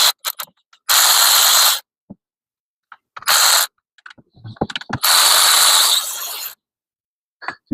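A ratchet loosening the transmission pan bolts on a Jeep Patriot with a CVT gearbox, heard as loud bursts of rapid clicking separated by silences, with scattered metallic clinks, very close.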